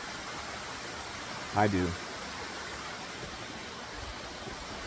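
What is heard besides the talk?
waterfall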